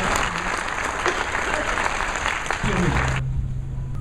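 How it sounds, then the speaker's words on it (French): Delegates at a CGT union congress opening in Saint-Étienne applaud steadily, a dense clapping crowd that cuts off abruptly near the end, leaving a faint voice. "Merci pour les applaudissements."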